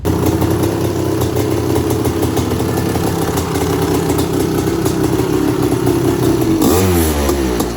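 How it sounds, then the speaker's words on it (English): A vintage Suzuki RM 125 motorcycle engine runs loudly with a rough, clattering idle, then revs up sharply near the end, its pitch sweeping upward. "Today I'm going to attempt to"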